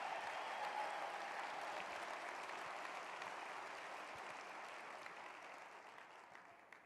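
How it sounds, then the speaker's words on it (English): Applause rises from a company meeting audience honoring newly promoted distributors, a broad wash of many hands clapping that stays even before gradually tapering off toward the end. "Round of applause for all of our new distributor level people."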